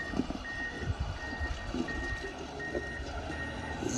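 A John Deere front loader clearing blizzard snow off a mountain highway gives steady evenly spaced reversing beeps over a low engine rumble, with occasional scraping and thumps nearby.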